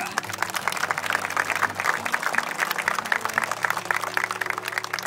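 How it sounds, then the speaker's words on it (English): A wedding reception crowd bursts into a hearty round of clapping, dense and continuous for several seconds with a faint hum of music or voices underneath. "a thunderous round of applause"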